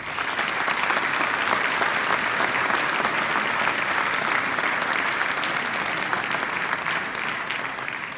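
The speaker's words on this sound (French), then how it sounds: "et on peut les applaudir" A crowd at a New Year wishes ceremony in Vias applauds in a dense, even roar of clapping that holds strong and unbroken for about eight seconds.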